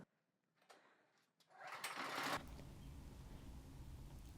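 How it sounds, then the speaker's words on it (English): A pressure washer starts up outdoors near a rug and patio, going from quiet clicks and a brief burst into a steady, loud hissing drone that runs continuously to the end. "if you get the pressure washer turned back on, I'm gonna pressure wash the rug first"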